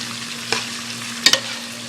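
Tilapia frying in olive oil in a pot, a steady close sizzle with a low hum beneath and a couple of sharp crackles and stirring clicks.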